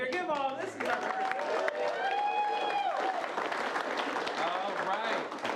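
An improv comedy audience applauds the cast with sustained, dense clapping that fills the whole stretch, while voices talk over it.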